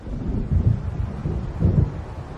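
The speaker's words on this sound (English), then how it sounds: "It seems there's a storm coming." Low, rolling thunder from an approaching storm in Alan Wake Remastered, deep rumbles swelling and fading in waves under a windy wash, with no voices.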